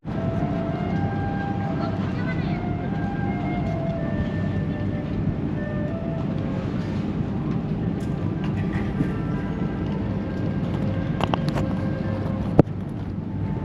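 The KA Kaligung economy passenger train rolls steadily near Pekalongan station, a continuous low rumble of wheels on rail with faint squeals and a sharp click near the end, heard from inside and moderately loud.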